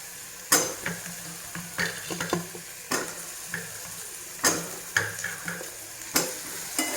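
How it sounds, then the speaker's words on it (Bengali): Potatoes being sautéed with spices for a cauliflower and potato curry, a soft sizzle running underneath while a spatula scrapes and clacks against the pan in sharp, irregular strokes every second or so. "দেখো বন্ধুরা, এই যে কষাচ্ছি, দেখো আলু দিয়ে দিলাম"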